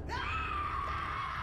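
A character in the video game BioShock lets out a long, strained scream, a sustained high-pitched wail held steadily and somewhat distant over a low background rumble.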